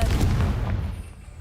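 Confringo explosive spell cast in the video game Hogwarts Legacy, a single heavy booming blast that fades quickly into a low rumbling tail.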